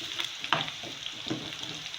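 Garlic and half a teaspoon of cumin hit hot oil with golden-brown fried onions, giving a steady close sizzle with a few stirring scrapes and soft clatters, no voices.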